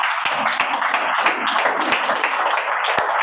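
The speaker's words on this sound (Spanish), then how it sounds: "Pues dale un aplauso a Dios." A church congregation applauds, giving a dense, even wash of many hands clapping that stays fairly loud for a few seconds with a few sharper individual claps standing out.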